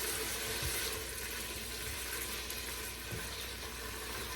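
Floured beef chunks browning in a pot give off a steady, even sizzle that holds at a constant level throughout, with no voices.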